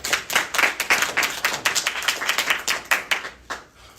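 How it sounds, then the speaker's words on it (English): A small audience at a university presentation claps for the presenter Justin, distinct individual hand claps in an uneven, fairly close patter that thins out toward the end. "let's go ahead and give Justin a clap to get started"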